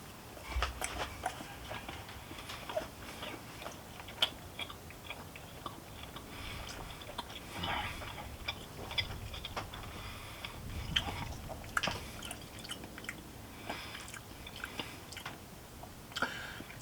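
Close, quiet chewing of grilled pork during a taste test, with soft wet bites and crunchy clicks repeating irregularly over faint background hiss.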